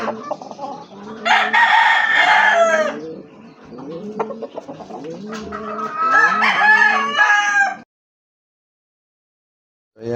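A Boston Roundhead rooster crows twice, loud and close, with long drawn-out calls and softer clucking between them, followed by a short silence.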